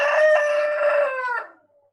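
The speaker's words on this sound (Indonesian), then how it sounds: "ini suasana kampung jadi banyak suara ayam" A rooster in a village crows loudly and close by, one long drawn-out call of about a second and a half that tapers off into silence.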